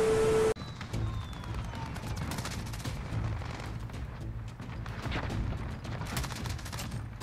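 Gold MG34 light machine gun rattling off rapid, dense bursts in a shooter video game, loud and close, continuous fire with booming impacts throughout.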